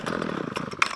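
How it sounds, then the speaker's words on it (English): A Ryobi petrol strimmer, still on choke, buzzes and rasps as its small two-stroke engine catches after a pull start, giving a short burst of ragged, fairly close engine noise. "Now I'm gonna try and fire it up"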